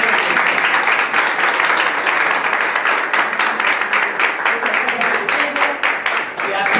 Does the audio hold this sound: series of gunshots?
no